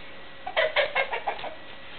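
A rooster that kicks a ball gives a short run of close, clear clucks, about six quick pulses in a row over a faint background.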